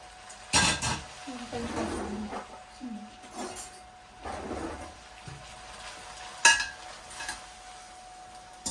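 A utensil scrapes and clanks against a pan while pasta is tossed with sardines, giving a few distinct metallic knocks and stirring scrapes between quiet pauses, with a voice talking.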